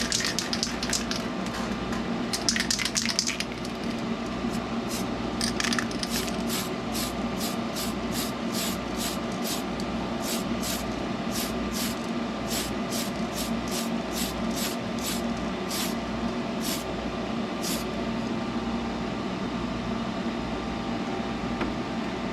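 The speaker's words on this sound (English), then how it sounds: "get the booth fired up here and lay down some primer coat" An airbrush or spray can lays primer coat onto a model kit body inside a running paint booth, with a steady fan hiss throughout and a long series of short, evenly spaced spray bursts up close.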